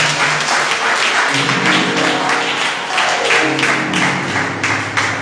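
A church congregation at a women's thanksgiving service bursts into sustained clapping and cheering acclamations, loud and close with a steady dense texture and a faint rhythmic beat running through it.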